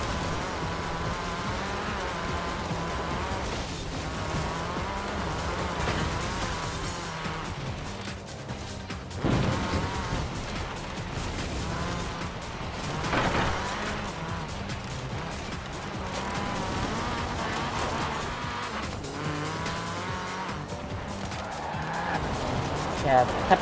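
A Corsa at full throttle in Forza Horizon 4 howls continuously, its engine note climbing and dropping through shifts, with occasional thumps and tire noise along the way, loud and steady throughout.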